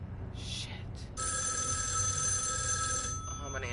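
A telephone rings in the horror video game ERICA, an electronic bell tone that starts softly, then swells into a steady, sustained ring before cutting off, with a person talking over it.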